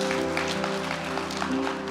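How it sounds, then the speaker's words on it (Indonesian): A church congregation applauds at a worship service, a short burst of steady, dense clapping from many hands, fairly even in level throughout. "Berikan tepuk tangan buat Tuhan kita."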